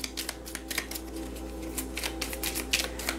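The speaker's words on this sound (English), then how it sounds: "I'm going to shuffle a bit and cut." Tarot cards are shuffled in quick, crisp riffling bursts, close and fairly quiet, with no voices.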